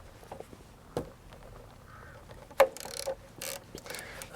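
A ratchet working on the front brake calliper bolts of a Honda CB125F motorcycle, giving a few short sharp clicks and a brief ratcheting burst among quiet workshop noise.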